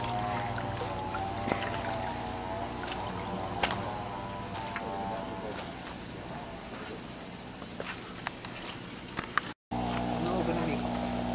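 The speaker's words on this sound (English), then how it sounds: "I gotta go check on what's draining over here." Water draining steadily from a fish tank during a water change in a fry-rearing setup, a continuous trickling and pouring wash that runs without a break under faint background noise.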